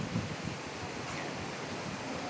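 Steady wind rushing past a microphone on the deck of the Genting Dream cruise ship at sea, with waves washing below, a continuous broadband roar with no distinct breaks.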